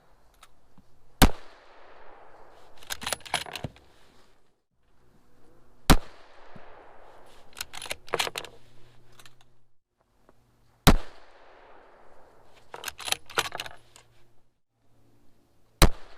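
Rifle shots ring out at a 100-meter range while zeroing a TRACT TORIC 4-20x50 scope: four sharp, loud single cracks spaced roughly five seconds apart, each followed by echoing rumble and clattering handling noise.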